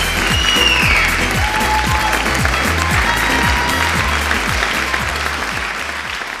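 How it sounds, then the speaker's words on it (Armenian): Audience applause at a wedding, dense continuous clapping over a rhythmic musical beat, holding steady and easing off slightly toward the end. "Շնորհակալություն ծափերի համար"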